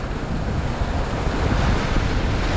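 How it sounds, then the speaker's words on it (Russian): Waves roll onto a beach on Antigua during shore fishing, a loud, continuous broadband wash of surf mixed with heavy wind buffeting the microphone, with no voices. "Какие волны."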